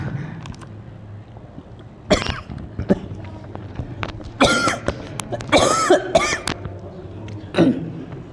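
A man coughs repeatedly in loud, uneven bursts with throat clearing, close by in a quiet room during a religious study gathering, with little talk between the coughs.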